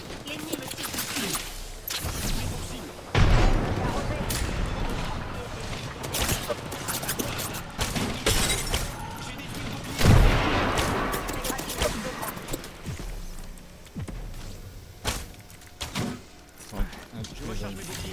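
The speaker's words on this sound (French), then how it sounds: "L'ennemi me tire dessus." Enemy gunfire in Apex Legends arrives in bursts of sharp impacts over dense game sound effects, with the loudest volleys near three and ten seconds and a player talking over the action.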